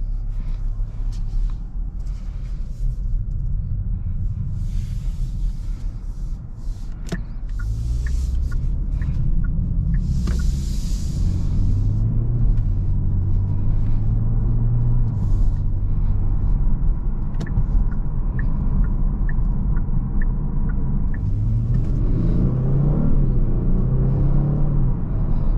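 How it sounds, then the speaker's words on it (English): A 2022 Genesis G70 rear-wheel-drive sedan on the move, heard from inside as a steady low road and engine rumble, with a few faint clicks and a soft rising engine tone during gentle acceleration. "So driving this Genesis G70 drives nice and smooth"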